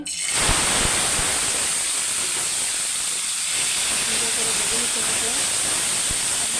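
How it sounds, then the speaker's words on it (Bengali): Chicken hits a hot pan and sizzles into a loud, steady hiss that starts suddenly and continues throughout, with faint talk underneath. "চিকেনটা দিয়ে দিচ্ছি"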